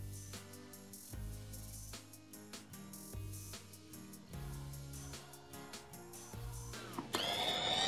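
An electric mixer grinder grinds a soya toast mixture, a close, steady whirring motor drone with stuttering pulses and changes in pitch, ending in a brief louder rattle, with no talking.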